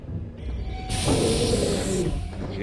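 A loud, sustained hiss of bear spray blasting from a canister in the horror video game The Quarry, rising abruptly and holding steady for over a second over low game background sound.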